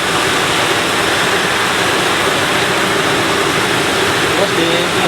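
Batter sizzles in hot oil, a steady loud broadband hiss with no pauses, close up and constant throughout.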